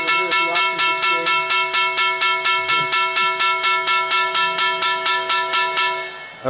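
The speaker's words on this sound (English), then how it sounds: "so you hear the bell, the exchange is closing, you're here at the options exchange." The closing bell at an options exchange rings loud and close in a steady, rapid series of about two dozen identical metallic strikes, then stops abruptly and its tone decays.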